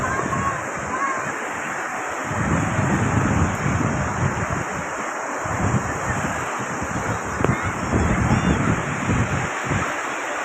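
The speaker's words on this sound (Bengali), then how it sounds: "জোয়ার যখন শুরু হয় তখন একটা সুসুগরি শব্দ হয় শব্দের সাথে সাথে পানির ছাপও পারে ঢেউ পারে" Sea waves roll in at high tide on Patenga beach, a continuous hissing wash of surf with gentle swells in loudness and no voices.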